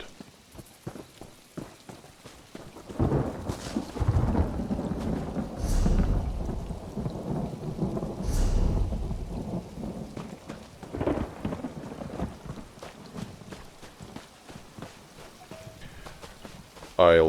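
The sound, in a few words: rain in the video game Elder Scrolls Online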